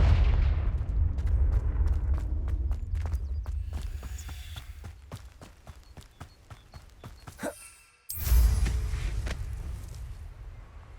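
A Confringo spell in Hogwarts Legacy ends in a sudden loud blast about eight seconds in, following a stretch of rapid rhythmic clopping and a brief crackling build-up, with a booming rumble fading afterward.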